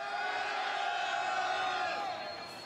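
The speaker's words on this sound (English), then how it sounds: "If you're in Hall B, let me hear you scream." A crowd in Hall B of a convention hall screams and cheers, a dense, sustained roar of many voices that tapers slightly at the end.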